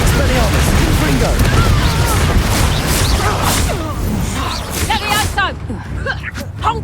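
Spell blasts from Hogwarts Legacy, a disarming charm and a fiery Confringo, crackle and whoosh through sustained booming game combat over roughly seven seconds, with other voices audible in the mix before it thins out near the end.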